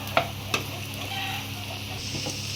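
Steady sizzling and frying of chopped tomatoes in a pan, with a few sharp clinks of a utensil stirring against metal.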